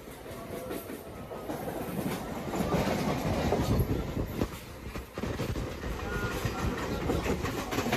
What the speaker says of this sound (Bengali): 10:50-এ ট্রেন হাওড়াকে বিদায় জানিয়ে রওনা দিল খিরাইয়ের উদ্দেশ্যে।